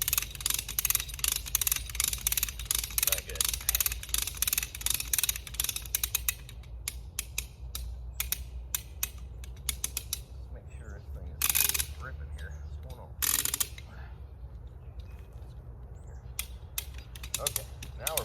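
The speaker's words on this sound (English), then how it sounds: "The rope is slipping inside the gear." A Maasdam hand rope puller winching logs, its ratchet and pawl clicking in quick repeated bursts while the rope slips in the gear, with creaks and pauses between, close by over low outdoor rumble.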